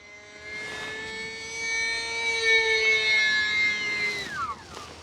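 An E-flite UMX Pitts small electric RC model plane flying, its motor whining in a steady high tone that rises in pitch and loudness, then swoops down as it passes, with no talking.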